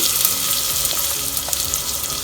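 Chopped onion and beans, added with ginger and cumin for a pearl millet khichdi, sizzle loudly and steadily in hot oil, a close, continuous frying hiss with no voices.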